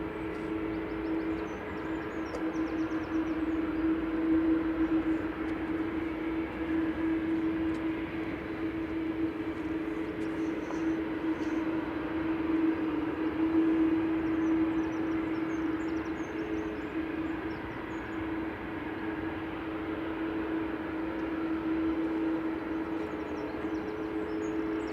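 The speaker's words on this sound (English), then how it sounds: "Tui coming in from Corfu" A TUI Boeing 737 arriving at Manchester Airport from Corfu, a steady, sustained jet engine drone with a constant tonal hum heard from a distance, holding level throughout with no talk.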